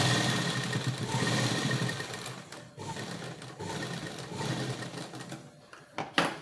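A sewing machine runs a second line of stitching while elastic is held stretched along a cloth sleeve. The close, rapid mechanical whir continues with a couple of brief pauses and a quick burst near the end.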